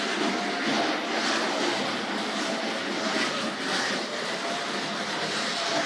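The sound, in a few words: model train running around a track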